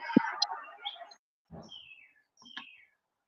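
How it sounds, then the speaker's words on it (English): Several short bird chirps and tweets come in brief bursts with gaps of quiet between them, fairly close and clear. "All the birds."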